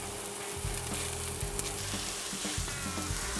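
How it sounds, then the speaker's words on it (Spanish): One kilo of ground beef frying with browned onion and garlic, a soft, even sizzle at moderate distance with low rumbling stirs and scrapes underneath. "Vamos a mezclar todo muy bien para que nuestra carne se comience a dorar."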